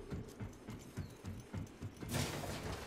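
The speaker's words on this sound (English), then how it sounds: "I hear footsteps. I think somebody's behind me." Rhythmic footsteps of a player character in Apex Legends, steady repeated thuds close by, with a burst of broadband noise near the end.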